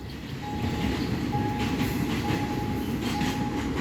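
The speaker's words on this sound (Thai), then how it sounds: "ขบวนรถเนี่ยก็จะผ่านสถานีหลวงจิรดาสถานีสามเสน แล้วก็เข้าสู่สถานีชุมทางบางซื่อเพื่อทำการเปลี่ยนรถจักร" Express train 631 rounding a curve near Chitralada in Bangkok gives a steady rumble of wheels on rails, with faint high squeals from the wheels on the curve, heard fairly close throughout.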